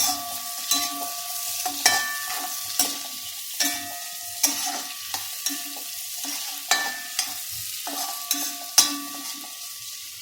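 Onion and two slit green chilies sauteing in a tablespoon of coconut oil for a Chettinad brinjal thokku, with a steady close sizzle broken by repeated sharp scrapes and taps of a spoon stirring against the pan.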